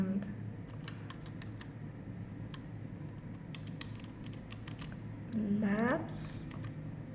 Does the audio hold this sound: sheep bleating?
no